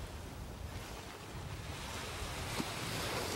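Surf breaks and washes along a rocky fishing shore, a steady rushing roar mixed with wind buffeting the microphone, continuous and fairly loud with no voices.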